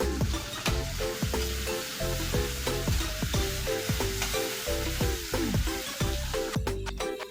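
Tomatoes with a little turmeric and salt sizzle steadily in a pan for village chicken biryani, a loud continuous frying hiss broken by repeated stirring scrapes, with no talking.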